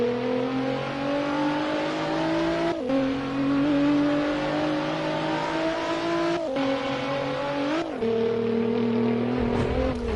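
A million-dollar race car in the Assetto Corsa racing game drones through practice laps, its steady engine tone rising through gears, with sharp drops at each shift and a brief rev near the end. No talk is heard.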